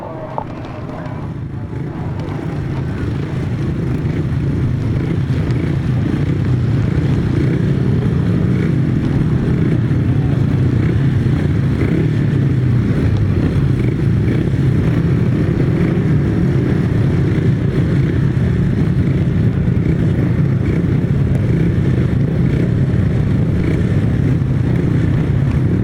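500cc sidecar motorcycles at a grasstrack race rise from a distant drone into a loud, sustained, dense engine roar that holds steady throughout.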